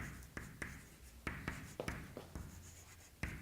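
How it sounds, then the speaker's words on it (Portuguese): Someone writes words on a classroom board during a Portuguese grammar lesson, making a quiet series of irregular taps and short scratchy strokes. "Vamos escrever aqui, ó."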